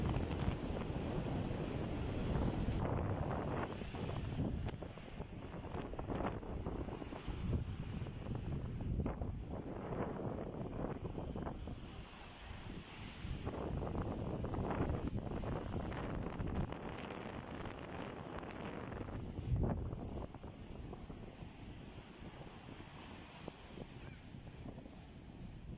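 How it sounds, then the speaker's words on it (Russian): Waves break and wind blows on the Baltic Sea shore at Palanga during a storm, with surf surging in loud irregular swells and gusts buffeting the microphone throughout. "звуки волн, ветер, и чтобы вы вообще почувствовали бы эту атмосферу моря"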